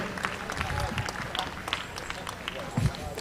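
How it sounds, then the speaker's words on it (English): Audience applause at a North American national championship event, a steady wash of clapping and crowd noise with scattered sharper claps, fairly loud and continuous, with some voices mixed in. "a round of applause for our lightweight men and all of our competitors the entire weekend"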